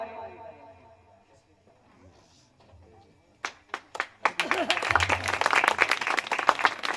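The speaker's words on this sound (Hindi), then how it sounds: "जोरदार ताली" An audience at a stage play honours its performers with applause. After quiet talk, a few scattered claps quickly swell into dense, lively clapping from the crowd.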